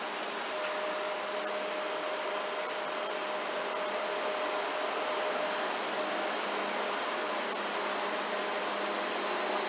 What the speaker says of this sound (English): Look, a Stadler KISS in DB livery.